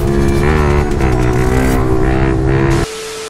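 A Yamaha R15 motorcycle engine revs hard at full power, a loud close rising whine with strong harmonics that holds, then cuts abruptly to a lower steady tone.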